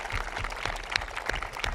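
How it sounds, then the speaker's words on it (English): Continuous applause from a large crowd at an outdoor Australia Day citizenship and flag-raising ceremony, dense steady clapping at moderate level right after a live performance, with no voices over it. "Please join me in continuing the applause to thank the Mugara for that powerful performance"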